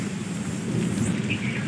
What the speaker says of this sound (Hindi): फिलहाल बारिश बहुत ज़्यादा पड़ रही है